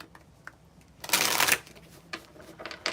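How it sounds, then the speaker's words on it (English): A tarot deck is shuffled by hand, a single loud riffling burst of rapid card flicks up close, followed by a few softer taps and slides of the cards. "I'm going to continue shuffling now."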